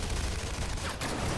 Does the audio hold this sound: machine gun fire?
yes